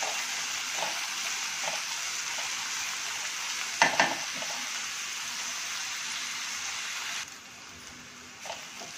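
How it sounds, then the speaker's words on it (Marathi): Onion frying with ginger-garlic paste in a pan, a steady close sizzle with faint stirring scrapes and a brief louder clatter midway, for matar paneer bhurji. "कांदा आपल्याला छान अगदी गुलाबी करून घ्यायचा आहे, सोनेरी रंगापर्यंत येईपर्यंत परतून घ्यायचा आहे चांगला"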